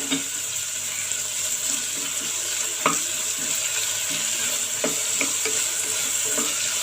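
Fresh ginger garlic paste fries in a pan over medium flame for coconut rice, giving a steady, close hiss with a few sharp spoon taps and scrapes against the pan.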